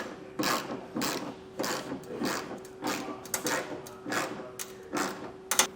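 A ratchet tightens the rail clamp of a soft roll-up tonneau cover on a 2017 Chevrolet pickup, giving a close series of quick clicking bursts with short pauses between strokes, alone without talk.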